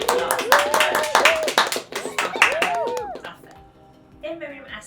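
Several people clapping lightly while seated, scattered claps mixed in with lively talking and laughter; the clapping is close and intermittent, overlapping the voices for most of the stretch, then dropping away near the end.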